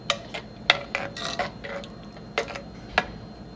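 Beetroot pachadi, an Onam sadya dish, being mixed with a spoon in a bowl: a series of sharp metallic clinks and taps, irregular but repeated, close and without speech.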